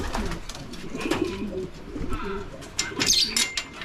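Soft, low coos from a racing pigeon at its loft after a race repeat in a steady rhythm close by, with some rustling and faint background noise around them.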